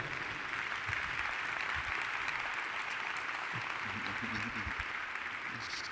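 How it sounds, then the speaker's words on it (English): Faint, steady applause from an audience after a panel discussion closes, a continuous wash of clapping heard from a distance, with low murmurs underneath. "Big applause, please"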